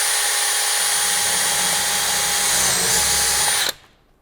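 A power drill bores a 1.25 to 1.5 inch tap hole into a tree for sugaring, whining loud and steady for several seconds before cutting off abruptly and leaving near silence.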